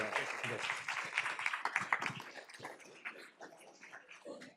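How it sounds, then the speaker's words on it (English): Applause from the audience at a school board regular meeting, dense clapping that starts strong and gradually thins, heard indoors at moderate distance with faint voices. "One more round of applause for Brant."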